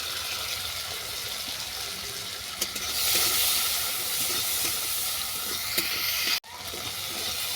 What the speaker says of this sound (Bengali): নামিয়ে নিয়ে এতে চিংড়ি মাছটাকে ভেজে নেব।